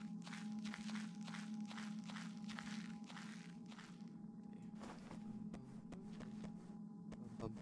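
Footsteps in a video game: a steady run of soft, evenly spaced steps over a constant low hum, thinning into a few sparse scuffs partway through.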